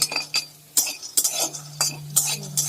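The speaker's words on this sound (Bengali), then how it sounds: "বাদামটা ভেজে নিচ্ছি" Peanuts are dry-roasted and stirred in a dry kadai, giving a series of quick metallic scrapes and clinks in an uneven rhythm, close and fairly loud.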